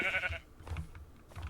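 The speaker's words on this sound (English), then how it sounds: "Ooh, look, a sheep." Minecraft sheep gives a single nasal, wavering bleat up close, followed by quieter game ambience and soft low thumps.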